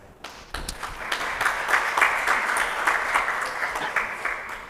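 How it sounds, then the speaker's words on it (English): An audience at an engineering faculty conference applauds the three session speakers, a dense burst of clapping that swells quickly and holds steady, with a few sharper taps standing out. "let us give big applause to all the three speakers"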